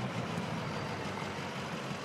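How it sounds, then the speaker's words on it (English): A 2006 Ford F-250 Power Stroke diesel truck in Farming Simulator 22 running with a steady, rough low rumble, close and even throughout, no talking over it. "I suppose I should start the truck."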